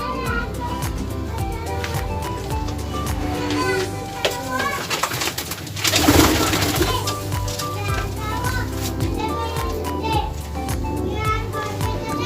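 A pigeon coos softly while being held in someone's hands, its low murmuring calls running under steady talking, with children's voices and background noise filling the space.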